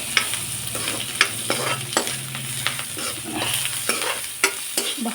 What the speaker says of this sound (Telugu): కొంచెం కరివేపాకు అండి, కొంచెం కొత్తిమీర అండి వేసేసుకుని శుభ్రంగా కలిపేసుకుందాం